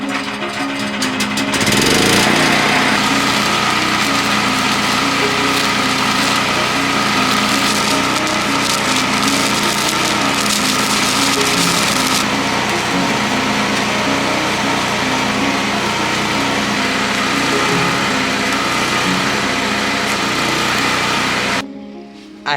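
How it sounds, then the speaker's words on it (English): A new welder running while welding an A-frame: a steady, loud crackling and sizzling arc sound that holds for about twenty seconds without pause, then cuts off abruptly, with no talking. "I am gonna try my new welder that I just got a few days ago"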